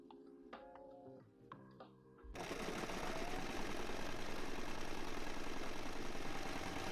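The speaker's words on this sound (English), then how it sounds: "And now I'm going to sew the top of the hat, the circle," A sewing machine stitches the circular top panel of a reversible fabric bucket hat, starting abruptly after a short quieter stretch and then running as a steady, continuous whirring drone close by.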